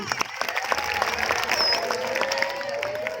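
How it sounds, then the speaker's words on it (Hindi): Audience applause breaks out at a health talk on boosting immunity, a steady mass of clapping with some crowd noise, moderately loud and sustained throughout. "एक बार जोर से तालियां।"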